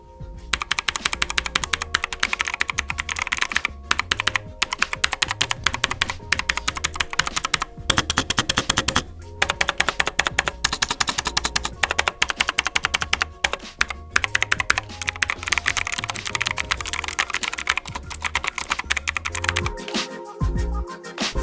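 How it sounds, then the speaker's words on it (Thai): Rapid clacky typing on an EGA Lite K101 mechanical keyboard, close and crisp, with dense bursts of keystrokes and a few brief pauses, no voices. "เดี๋ยวเรามา ฟังเสียงของบูสวิตกันบ้างนะครับคีย์บอร์ดตัวนี้เนี่ย เสียงเป็นยังไงบ้างนะครับ"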